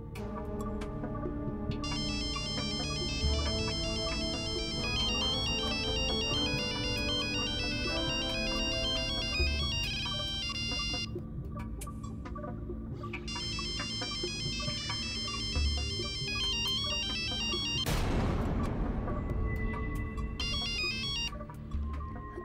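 A mobile phone ringtone plays a loud, melodic electronic tune that loops steadily for over twenty seconds, with no voices over it.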